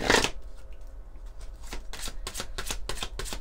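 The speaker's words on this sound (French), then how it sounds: "On va prendre quelques cartes de l'oracle des anges des amoureux." Angel oracle cards are shuffled close up, with a sharp riffle at the start and then a quick series of crisp flutters and slaps.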